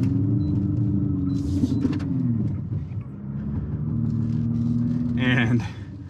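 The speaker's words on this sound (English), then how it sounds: "Full throttle." 2022 Infiniti QX55 engine revving at full throttle while climbing off road, a steady droning roar that dips and then surges again, close to the microphone with brief speech in the background.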